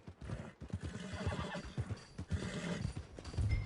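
A horse in the video game Red Dead Redemption 2 whinnies while its hooves clip-clop in a steady walking rhythm, moderately close and fairly quiet, with no talk over it.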